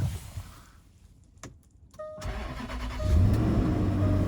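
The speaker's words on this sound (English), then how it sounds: "So engine fires up just fine." A 2011 Land Rover LR4 5.0L engine, after a crankshaft sensor replacement, cranks briefly, catches and fires up, then settles into a steady, rumbling idle close by.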